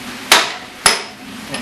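Two sharp metallic hammer blows on a drift, driving out the front wheel spindle of a Royal Enfield Bullet 500 Electra X, close and loud with a short pause between strikes.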